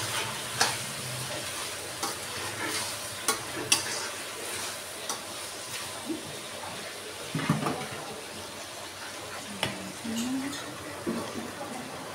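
Tomatoes cooking with salt in a pot for moong dal tomato pappu, stirred with a spoon in scattered clinks and scrapes over a soft, steady simmering sizzle, fairly quiet and close; no clear talk.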